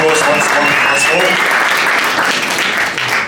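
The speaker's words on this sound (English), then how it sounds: "Let's give him a big round of applause once more." A crowd at a boxing press conference gives a loud, sustained round of applause, dense clapping that stays strong throughout and fades only slightly at the end.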